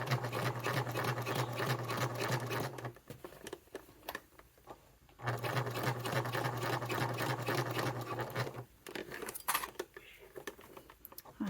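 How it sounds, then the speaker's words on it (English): A sewing machine stitches a vinyl satchel flap around sharp corners in two long, even bursts of rapid mechanical whirring, separated by a pause filled with small clicks and handling of the fabric. "Sewing the flap is a treat after sewing the bottom, even around these sharp corners"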